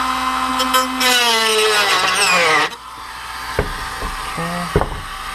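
A power drill whirs loudly with a rising pitch while working on a Dodge Avenger tail light, then spins down and stops, followed by a few sharp clicks and knocks.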